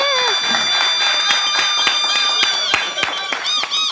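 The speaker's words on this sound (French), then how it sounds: "Applaudissez!" An audience on a French TV show set gives a round of applause, with sharp claps scattered across a few seconds over a loud, steady musical tone and crowd noise.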